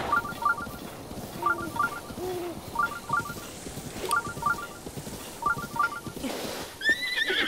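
A horse in the video game The Legend of Zelda: Breath of the Wild gives a brief neigh late on, amid repeated chiming game tones and hoofbeat-like clatter at close range.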